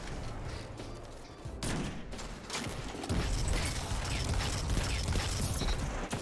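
Gunfire with explosive rounds in the video game Destiny, heard as dense crackling bursts and rattling that grow louder and more continuous toward the end.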